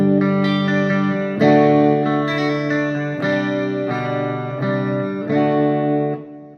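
Electric guitar played through an amp at full volume, struck chords ringing out in several sustained strums, turning from a clean tone toward a thicker, saturated distortion before fading.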